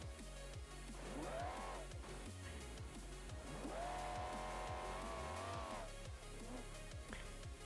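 A huge V12 engine on a monster truck in BeamNG.drive revs up and down with rising and falling harmonic whine, steady and loud throughout, with some tire noise and no talking.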